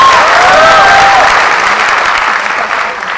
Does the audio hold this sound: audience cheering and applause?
yes